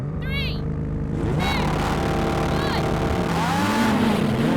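A Ferrari 296 GTB, McLaren 750S, Lamborghini Huracán Performante and Porsche 911 Turbo S launch in a drag race, engines climbing sharply in pitch through quick gear changes while excited talk carries over the roar.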